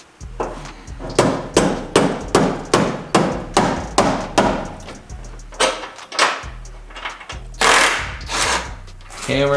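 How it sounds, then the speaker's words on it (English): Hammers pound metal in a workshop while a car is stripped down, with about a dozen loud, close, evenly spaced clanging blows and then a few irregular hits, with voices heard between strikes. "Hammers, crowbars. Too many hammers."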